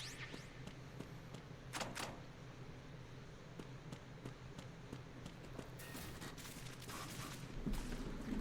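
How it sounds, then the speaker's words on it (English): Scattered gunshots crack outside in Metal Gear Solid 2, a series of faint, sharp bursts at irregular intervals over quiet ambient game sound, growing a little busier near the end. "You hear a lot of gunfire outside there?"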